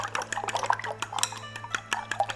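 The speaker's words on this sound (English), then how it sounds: "Beat up the eggs." Eggs are beaten in a bowl for egg drop soup, making quick, rhythmic clinking and tapping of a utensil against the bowl, close up and crisp, with no talk.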